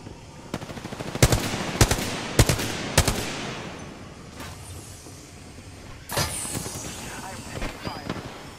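Gunfire in the Apex Legends video game: several loud, sharp shots fire in a quick uneven sequence, then a pause and another burst of shots, with voices talking underneath.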